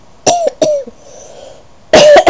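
A man coughs several times close to the microphone: two quick harsh coughs, a short quiet gap, then a rapid cluster of rougher coughs.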